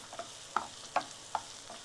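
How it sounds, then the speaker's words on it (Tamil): Onions sautéing over a medium flame for potato fry, heard as a faint, soft sizzle with about four spaced stirring scrapes of a spoon against the pan. "தீயை மிதமாக வச்சுக்கிட்டு வதக்குங்க"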